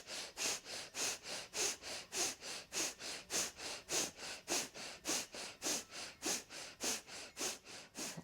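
Breath of fire yoga breathing, done seated cross-legged with arms overhead: about fourteen rapid, forceful nasal breaths in a steady even rhythm, close and clear with no talking.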